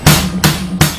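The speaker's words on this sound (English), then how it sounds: "start matching your hi-hat hits with your bass" Three evenly spaced drum hits, each a low bass drum thump layered with a bright hi-hat hit, loud and close with no other sound.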